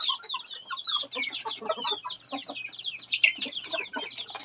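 A backyard flock of chickens beside a house, with small chicks kept apart from the larger hens, clucks and chatters continuously. The calls overlap densely and sit close and moderately loud, with no speech over them.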